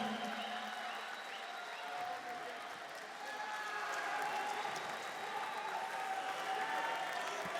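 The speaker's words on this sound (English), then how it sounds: "The crowd is celebrating you." An arena crowd after a mixed martial arts fight at an OKTAGON event, applauding and cheering the fighter with a steady, distant roar of clapping and voices that holds for the whole stretch.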